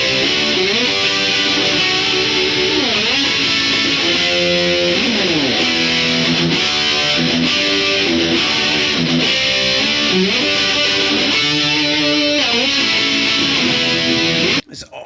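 Heavily distorted electric guitar riff, built from power chords and triads, playing continuously and loud with steady rhythmic chord changes, with no talk, ending abruptly near the close.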